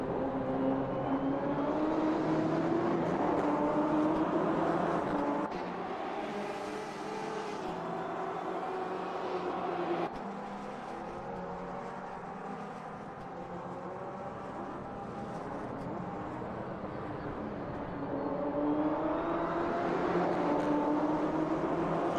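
Corvette and BMW GTE race cars in Automobilista 2 on the Daytona Road Course drone steadily in a pack, with engine tones rising and falling as they pass and shift, loud and continuous throughout.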